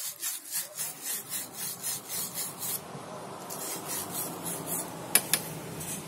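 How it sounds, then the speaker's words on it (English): A brush scrubs dirt from inside a plumbing fitting in quick rhythmic back-and-forth strokes, a close, raspy scratching that settles into steadier rubbing, with two sharp clicks near the end. "So this brush goes in here and cleans it."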